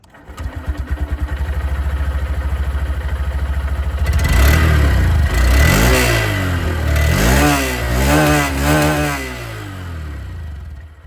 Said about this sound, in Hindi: इसकी जो एग्जॉस्ट साउंड है वो भी मैं आप लोगों को यहाँ पर सुना देता हूँ।